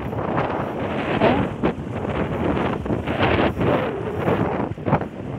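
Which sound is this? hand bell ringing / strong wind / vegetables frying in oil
strong wind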